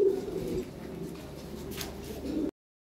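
Lahore siraji pigeons coo softly and close by in a low, rolling murmur for a couple of seconds before the sound cuts to silence.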